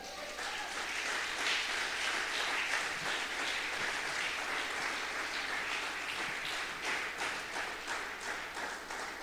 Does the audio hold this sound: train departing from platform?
no